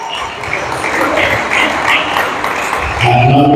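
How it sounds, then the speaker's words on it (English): Spectators applaud a table tennis player at a Premier Senior British League match between Fusion TTC and Brighton TTC; steady, moderate clapping fills the hall, with a voice briefly heard near the end. "Round of applause, please."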